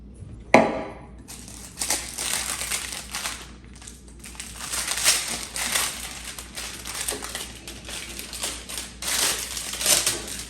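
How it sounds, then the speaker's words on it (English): A new Easton ADV 360 baseball bat is unwrapped from its packaging, with close, continuous crinkling and crunching of plastic wrap in irregular bursts and no talking. "So, let's unwrap this thing."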